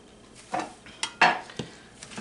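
A spoon stirs food in a pot, with a handful of distinct scraping clanks of metal on cookware in an irregular rhythm, close and moderately loud, with no talking.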